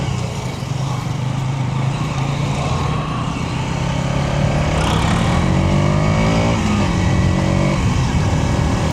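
Motorbikes, including a Pulsar 150, rev and pull away on a road near a town junction, engine drone rising in pitch as they accelerate, loud and close, steady throughout.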